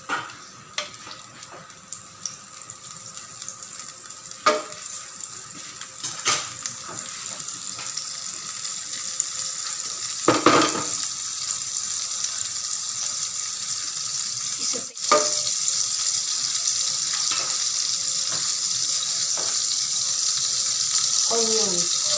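Butter, one teaspoon, sizzling and frying steadily in a heated pan, a continuous crackling hiss with occasional louder pops and stirring clatters, no talk.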